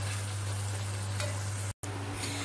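Onions sautéing in a pan for karahi chicken masala, a steady soft sizzle over a low background hum, briefly cut out for a moment near the end.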